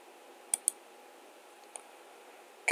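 A few sharp mouse clicks while working in surveying software, two quick ones close together then a single click later, followed by a louder burst at the end.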